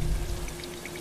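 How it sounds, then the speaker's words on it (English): Water rushes and patters steadily during a water extraction by a heli tanker over a wildfire zone in Life Is Strange 2, a continuous close spray with a low rumble underneath. "The heli tanker is over the wildfire zone. Get ready for water extraction."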